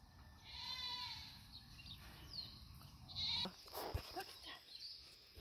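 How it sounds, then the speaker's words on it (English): Goats bleating at Panaewa zoo in Hilo, a few quavering calls rising over faint outdoor background, moderately distant, with brief louder cries in the middle. "Wow, look, we got some goats over there, huh? There's a goat."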